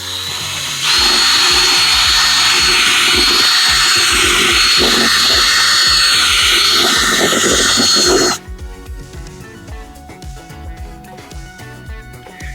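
A power drill fitted with a 5/16 bit enlarges a hole for an M6 rivet during a Toyota GR86 body-parts install, whining loudly and steadily for about eight seconds before cutting off abruptly, leaving faint clicks and handling noise.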